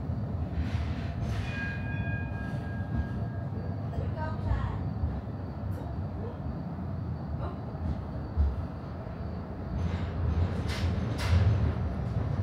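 A Blackpool tram runs along its tramway, separated from the main road, producing a continuous rolling rumble with brief whining and squealing tones. Someone talks over it throughout.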